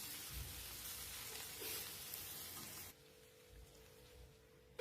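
Okra, sliced thin and lengthwise, sizzles in a pan as it is stirred, a steady frying hiss for about three seconds that then drops to a quieter simmer.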